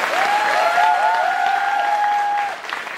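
A theatre audience applauds steadily at the closing curtain call of a Korean musical, a dense, loud wash of clapping with a thin whistle running over it that fades near the end.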